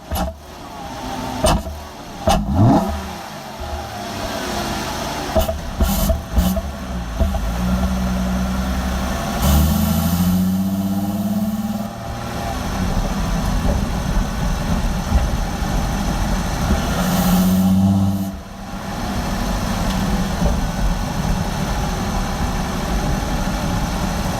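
A V6 car engine fitted with a Mopar cold air intake idles with a steady rumble, punctuated by a few short revs, loud and close with no talking.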